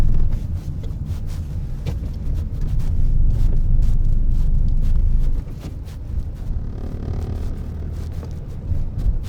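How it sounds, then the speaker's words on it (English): The diesel engine of a Ford C-Max rumbles from inside the car as it drives on a quiet night, a loud, steady low drone with some road and wind noise and no speech. "I was so focused on the diesel sound of this car"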